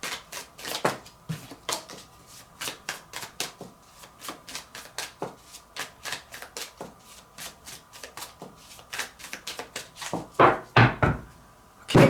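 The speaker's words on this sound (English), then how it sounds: "I'm going to shuffle and shuffle." Tarot cards are shuffled by hand in repeated quick riffling bursts, close and crisp, with a few louder slaps and knocks toward the end.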